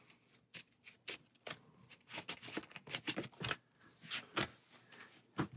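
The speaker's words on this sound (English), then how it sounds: "So we'll go ahead and shuffle these up" Marvel Champions cards riffled and shuffled by hand in repeated quick bursts, close and crisp, with no talking.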